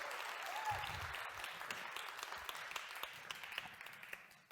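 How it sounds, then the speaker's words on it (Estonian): Audience applause greets a neuroscientist and psychologist at an Estonian talk on innovation in the brain; steady, fairly faint clapping from a crowd fills the room, with a brief tonal chirp early on. "Palun, aplaus!"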